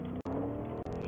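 A car engine in Fortnite hums steadily at close range, broken by two brief dropouts in the game audio.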